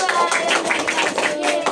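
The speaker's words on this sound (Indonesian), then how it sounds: "Kita beri tepuk tangan yang meriah untuk kelompok 1 dan 2" Classroom applause for two student groups during a microteaching session, a dense, steady patter of many hands clapping throughout with a faint murmur of voices underneath.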